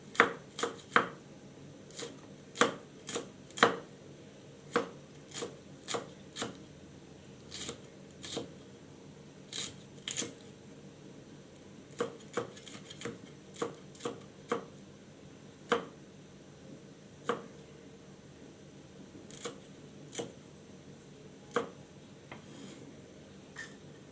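A knife chops chilies on a cutting board for a Thai spicy pork-bone soup, about forty sharp, separate knocks coming in uneven clusters, close and clear, over a quiet background.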